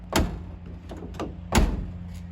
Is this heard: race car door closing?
yes